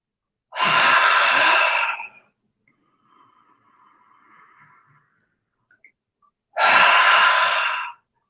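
Deep breathing exercise during a morning routine: two long, loud, airy exhalations spaced several seconds apart, with a faint quiet breath and a few small clicks between them.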